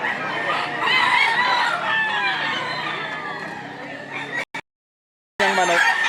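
A gamecock rooster crows and clucks at a fighting-cock sale in Lipa, Batangas, with repeated calls under crowd chatter and a brief dropout near the end.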